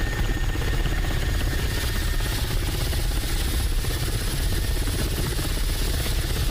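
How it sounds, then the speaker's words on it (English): Ka-50 Black Shark attack helicopter in the DCS flight simulator, its engines and rotor making a steady, loud, continuous whine and thrum with no talking over it. "Very cool looking helicopter."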